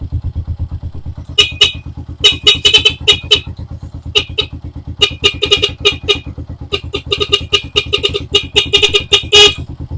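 A stock vehicle horn on an idling motorcycle honks in repeated short and longer bursts over the steady rhythmic engine idle, loud and close with no talking.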